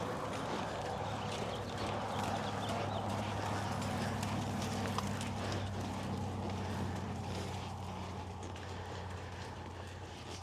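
A young horse trots under a rider, hooves clip-clopping in a quick steady rhythm across the ground for several seconds, fairly faint against a low background hum.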